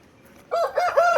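A rooster gives a short, close crow after a brief quiet start, the call bright and loud for about half a second.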